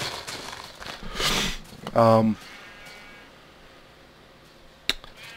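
A short sheep bleat from Minecraft rings out near the start, followed by a quieter stretch with faint ambient hum and a sharp click near the end.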